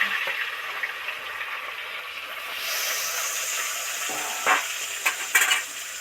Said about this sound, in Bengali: অন্য মাছগুলো ভেজে নিচ্ছি